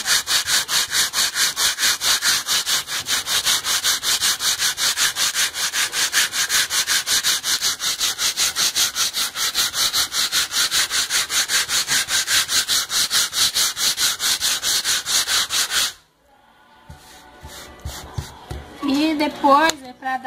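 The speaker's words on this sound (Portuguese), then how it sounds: "Pega a lixa, coloca aqui e a gente começa a lixar." Coarse sandpaper is rubbed by hand over a workpiece in a fast, steady back-and-forth rhythm, loud and close, then stops abruptly, followed by quieter handling noises.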